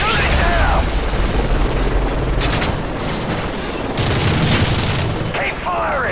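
Gunfire is aimed at an enemy helicopter in a Call of Duty: Modern Warfare 3 campaign mission, with dense overlapping shots, sharp cracks and booming impacts over a continuous roar, plus brief whooshing sweeps near the start and end.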